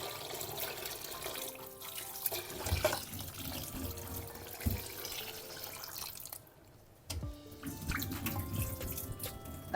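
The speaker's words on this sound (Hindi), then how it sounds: "अच्छे से अभी इसको वॉश करेंगे हम।" Tap water runs into a kitchen sink while raw meat is washed by hand, a steady splashing stream with drips and sloshing, briefly pausing midway before resuming.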